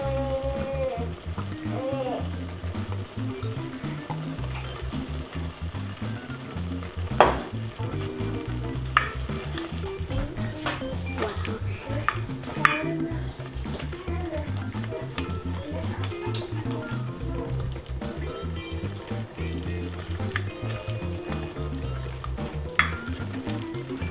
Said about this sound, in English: I'm going to add a little bit of soy sauce too.